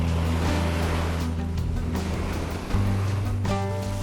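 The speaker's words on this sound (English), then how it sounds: "Here we are at the waterfall. Look, you can see it flowing behind there." A waterfall near a Taos ski area pours out a steady, loud broadband rush that stays constant for the whole stretch, with a low tonal hum running underneath.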